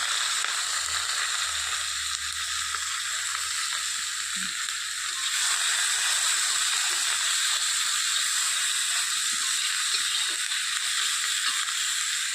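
Constant bright sizzle of onions frying in hot mustard oil...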